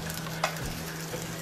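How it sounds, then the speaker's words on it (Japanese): Frozen food sizzles and crackles in a frying pan, a soft steady frying hiss with a faint low hum and a brief stirring scrape, quiet and close. "冷凍食品を直接フライパンで調理。"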